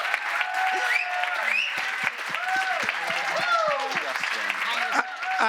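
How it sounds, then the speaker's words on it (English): Audience applause at a start-up day event with a live on-stage conversation, steady clapping filling the room throughout with voices and whoops carrying above it. "Please give them a round of applause of thanks."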